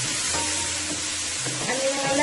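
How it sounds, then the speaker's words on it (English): Stew turkey fries in a pot of sauce for a Caribbean dish, a steady close sizzle and crackle with faint background hum throughout. "you're going to let that fry for about 3 minutes"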